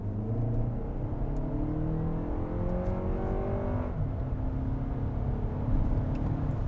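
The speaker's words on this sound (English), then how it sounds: "let's put it into sport and shut our mouths and listen to it from the inside." A 2024 Lexus TX 500h F Sport in sport mode, heard from inside the cabin: a steady low engine drone with rising tones as it accelerates through several gear changes, subdued and continuous with no talking.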